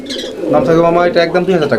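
Pigeons offered for sale coo loudly and close by in a continuous, warbling stream of overlapping calls.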